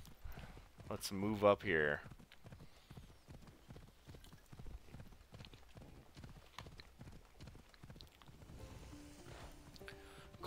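Horse hooves clip-clopping at a steady walking rhythm in Assassin's Creed Odyssey, with a brief whinny near the start and game music, while someone talks over it.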